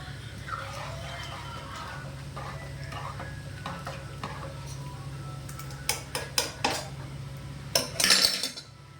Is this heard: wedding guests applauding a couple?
no